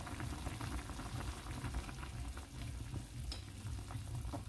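Chicken curry with glass noodles and basil, Isan style, is stirred in a pot, with soft continuous sizzling and bubbling plus scraping stir sounds, quiet and close with no talking.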